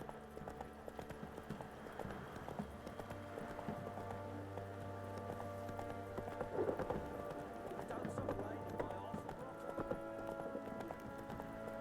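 Roach, a horse in the video game Witcher 3, galloping with a steady, rapid clip-clop of hooves throughout, fairly quiet, with voices speaking at moments over the hoofbeats.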